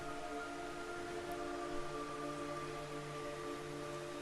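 Steady rain hiss in the stealth game Metal Gear Solid 3: Snake Eater, a dense even wash with faint tonal hums underneath, constant and unbroken for the whole stretch.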